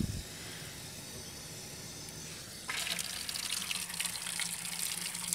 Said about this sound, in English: Okay, so I just now turned on the water.